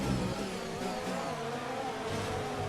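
A Formula 1 car engine in the F1 2019 racing game at Monaco drones steadily at mid pitch, with slight shifts in revs and no talk over it.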